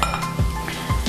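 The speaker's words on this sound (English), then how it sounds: "So now this is starting to sizzle over here a little bit." A pan gently sizzling on the stove while cooking chicken meatball soup, a soft steady crackle with a couple of light clinks of utensils against cookware, close and without talk.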